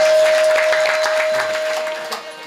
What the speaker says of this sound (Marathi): टाळी वाजवा त्यांच्याकरता मस्त